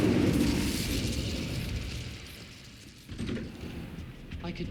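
Incendio fire spell cast in Hogwarts Legacy, a loud burst of fiery roar at the start that fades over a couple of seconds, followed by a second softer flare of rumbling flame.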